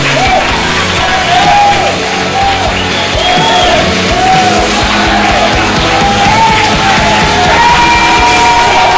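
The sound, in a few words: church congregation cheering and applauding the Lord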